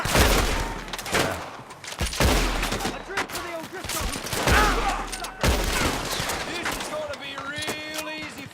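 Rapid gunfire in Red Dead Redemption 2, dense bursts of repeated shots and heavy reports clustered in waves, loud and close, with a few brief metallic ringing tails.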